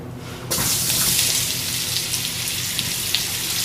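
Potatoes drop into leftover hot grease in a pan, setting off a sudden loud, hissing sizzle after a brief quiet start that then holds steady and close.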